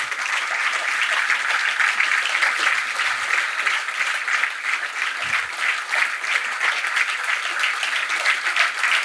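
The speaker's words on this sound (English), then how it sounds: "This time, the round of applause, it should be loud, it cannot stop." A large awards-ceremony audience gives loud, sustained applause for the event team on stage, a dense unbroken roar of clapping that holds steady throughout.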